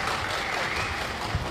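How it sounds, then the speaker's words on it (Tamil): Audience clapping at a Tamil motivational speech on reading books, a steady wash of hand claps heard from a distance at moderate volume, with no voices. "இதுக்காக அம்பேத்கருக்கு கைத்தட்டுங்க."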